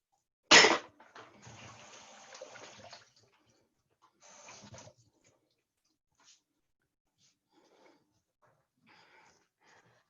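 Pink-stained hands rinsed under a running kitchen tap: a sharp splash at the start, then a couple of seconds of soft gushing water, a short second burst, and faint small clinks afterward, close by and without talk.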